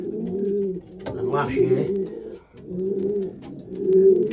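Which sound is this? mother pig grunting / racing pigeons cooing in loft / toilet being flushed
racing pigeons cooing in loft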